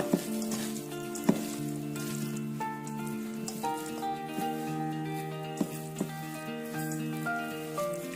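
Balinese lawar is stirred in a pan, with faint scattered scraping clicks and a soft sizzle heard beneath steady background music.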